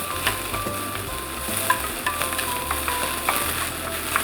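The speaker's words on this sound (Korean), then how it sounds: "양파 넣어서 볶아주도록 할게요" Onions being stir-fried in an oiled pan while making golden tofu rice bowl, a steady sizzle broken by light spatula scrapes and taps at close range.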